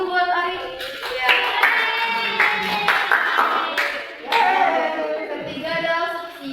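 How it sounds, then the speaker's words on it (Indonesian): A classroom full of students clapping together in a sustained, fairly loud round of applause, with a few voices and children's chatter mixed in. "Tepuk tangan dulu buat Ari."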